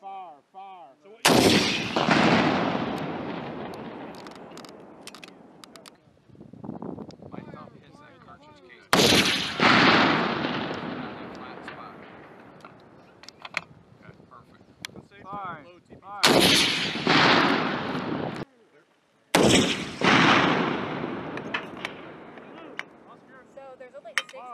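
Carl Gustav M3E1 recoilless grenade launcher (MAAWS) fired four times on a range, each shot a sharp, very loud blast with a long rolling decay, spaced several seconds apart, with people talking faintly in between.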